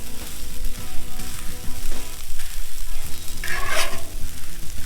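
Chicken fried rice with butter sizzles steadily on a Blackstone griddle, a loud continuous frying hiss with scraping and stirring clatter from a spatula, and a brighter metallic scrape near the end.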